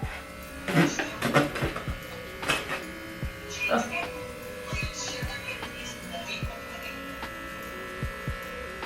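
Electric hair clippers edge a hairline close up, giving a thin buzzing hum that rises and falls in short passes, with people talking over it.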